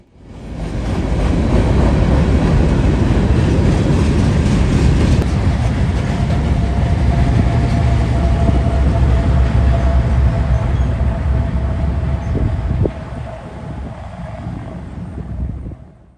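A short Norfolk Southern freight, train 171, runs westbound on the main line at speed, a loud, steady rumble and rail roar that holds for most of the pass, then drops a little as the cars trail away.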